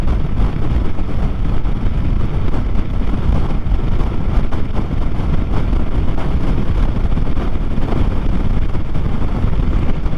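Steady, heavy wind rush buffets the microphone while riding a Yamaha MT-07 motorcycle on a windy road, a constant low roar that masks everything else, with no talk.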